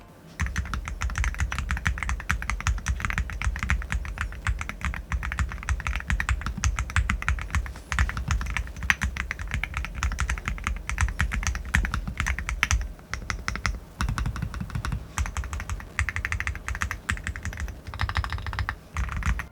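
Steady, continuous typing on a MelGeek Made68 Ultra V2 magnetic-switch keyboard, soft, muted, slightly deep keystrokes clattering rapidly and without pause, close up.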